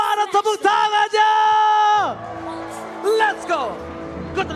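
Esports arena crowd at an MPL Indonesia Mobile Legends match cheering and whooping loudly, a sustained roar with sharp shouts that fades after about two seconds into scattered yells.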